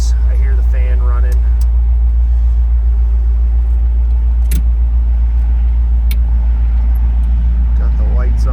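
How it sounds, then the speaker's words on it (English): A cooling fan runs in a restored 1955 Chevrolet Bel Air convertible with a 265 V8, heard as a loud, steady low whir throughout, with a few faint clicks and someone talking briefly. "I hear the fan running."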